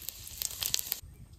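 A pinch of cumin seeds hits hot oil, left from frying a hilsa fish head, with a faint, quick crackle of small pops and hiss lasting about a second before dropping away to near silence.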